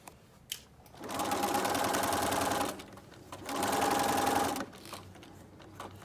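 A sewing machine runs in two sustained bursts, stitching all the way around the edge of a mitered fabric table napkin, loud and close with short pauses between runs.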